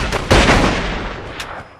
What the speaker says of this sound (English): Shot him right in his little head.